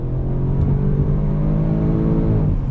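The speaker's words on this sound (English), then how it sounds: "On throttle, drops down, and we are off and running." A 2021 Audi RS6 Avant performance wagon pulls hard under throttle, its engine note loud and close as it climbs steadily in pitch, then dips at a shift near the end.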